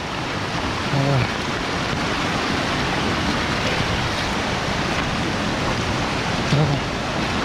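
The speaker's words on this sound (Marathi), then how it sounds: "पाण्याचं प्रेशर बघा मित्रांनो खतरनाक पूर्ण पूर आला" Dense, continuous roar of rushing flood water after four to five days of torrential rain fills the scene, loud and unbroken, with a faint voice briefly surfacing.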